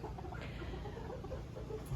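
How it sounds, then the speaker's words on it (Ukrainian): Roosters in a coop, thirty-two of them kept together, cluck in a low, steady, faint murmur throughout with no talk. "Зараз тут знаходиться 32 півня"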